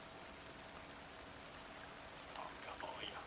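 Steady rain falls in Alan Wake 2, a dense even hiss that runs through the whole stretch, with a few brighter drips and splashes near the end as from a puddle.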